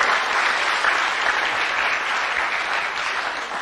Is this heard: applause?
yes